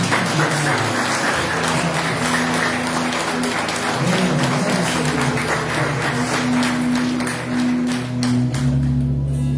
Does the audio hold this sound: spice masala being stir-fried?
no